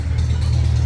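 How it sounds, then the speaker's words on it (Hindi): A tractor engine rumbles at a fairly loud, steady pitch out in the paddy fields at rice planting time, briefly and with no talk over it. "अभी तक आपको ट्रैक्टर की और बोरिंग की आवाज़ सुनाई दे रही होगी"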